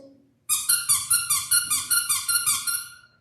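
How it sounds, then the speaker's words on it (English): Rapid squeaky toy squeaks in a steady rhythmic series, about a dozen quick high-pitched squeals close up, with faint low rustling beneath. "and squeaky toys,"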